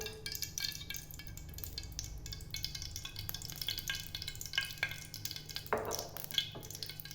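Dried copra coconut pieces roast in oil in a pan with a steady soft sizzle and occasional stirring scrapes and clinks, close and alone without speech.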